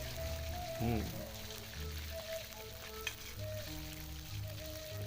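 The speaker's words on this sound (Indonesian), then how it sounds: "Jika udah panas, masukkan terongnya, masak sampai matang." Eggplant frying in hot oil gives a steady soft sizzle like light rain, continuous and moderately quiet, with faint background tones and a small tap partway through.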